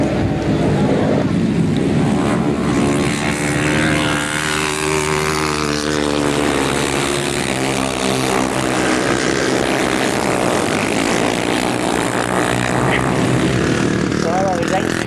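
500cc solo motorcycles racing on a grasstrack, engines roaring loud and continuous as they sweep past, with a commentator talking over the steady drone throughout.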